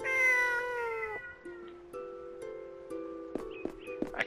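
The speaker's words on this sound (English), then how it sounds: "A cat." A cat meows in the video game Eternal Sonata, giving a few drawn-out, wavering tonal cries that rise and fall in steps over about four seconds. The cries are clear and fairly close, with no talk over them.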